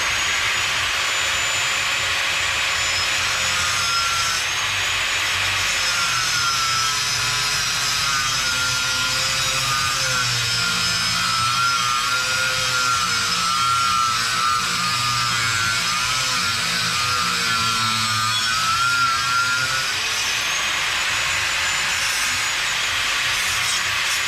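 A power tool cuts the steel angles off a Freeman loader bracket clamped in a vise outdoors, giving a loud continuous whining grind that shifts in pitch as the cut goes on, steady for the whole stretch.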